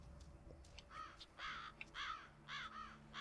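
Crows caw in the outdoor world of the video game The Vanishing of Ethan Carter, several harsh repeated calls in quick succession, moderately near and clear over a quiet ambient background.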